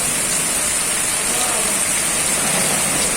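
Floodwater rushing through a city during a flood in Volta Redonda, a dense, steady roar of moving water with constant hiss and no letup, close and loud.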